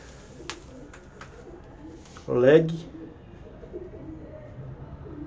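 Homing pigeons coo in a pigeon loft, one soft warbling call rising briefly and close by, while someone talks over the birds.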